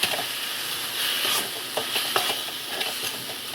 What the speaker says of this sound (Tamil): தேங்காய் துருவல் சேர்த்துட்டு நல்லா கிண்டி விட்டுடலாம்